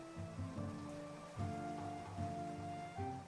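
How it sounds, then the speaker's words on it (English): Steady rain patters down in the village-building game Clanfolk, a soft hiss layered under a gentle tonal melody that carries throughout, with no voices. "Of course it's raining."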